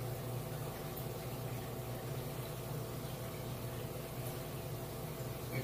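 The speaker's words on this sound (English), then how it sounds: "Add a little bit of my water to it." Aquarium water is poured into a container of marine pods, making a soft, steady rushing and bubbling wash that stays faint and continuous throughout.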